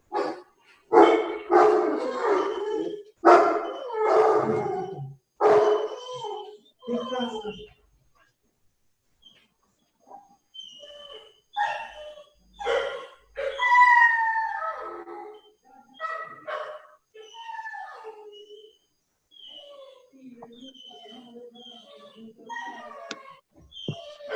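Several pet dogs erupt in excited barking as their owner arrives home, sharp repeated barks giving way to drawn-out howls and whines, with a person's voice mixed in at times.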